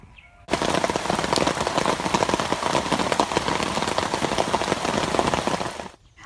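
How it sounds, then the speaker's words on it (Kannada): Rain falls steadily in a garden setting, a close, constant patter of drops with sharp individual hits, starting abruptly and fading out at the end. "ಆದರೆ ಈ ಸಲ ಇನ್ನೂ ಮಳೆ ಬರ್ತಾನೇ ಇದೆ"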